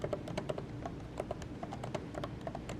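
Rapid, light key clicks typed on the keyboard of a new M1 Pro MacBook Pro 16-inch laptop, a steady run of close, crisp taps in an irregular rhythm with no talking.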